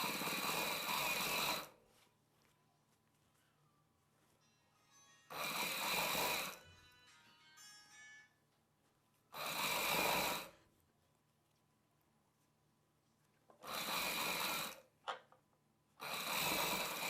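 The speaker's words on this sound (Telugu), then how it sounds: "ఇప్పుడు పైవైపున ఇంకొక కుట్టు వేసేసుకోవాలి." A sewing machine stitches puff sleeve fabric in five bursts of rapid, whirring needle motor a second or two long, separated by quiet pauses. The machine is close and fairly loud, with faint handling noises between runs and no talk.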